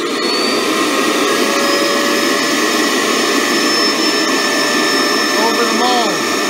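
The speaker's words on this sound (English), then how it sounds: "I'm going to turn on the vacuum. It's going to get very loud." A vacuum forming machine's vacuum pump runs loudly and steadily, a dense continuous roar with a faint whine on top, used while making thermoformed plastic molds for custom-shaped chocolate.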